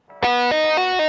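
Heavily distorted electric guitar playing a quick string-skipping lick with left-hand hammer-ons and right-hand taps, notes sustaining into one another in a bright, steady line, close and loud with no talking.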